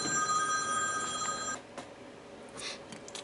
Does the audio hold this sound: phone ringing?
yes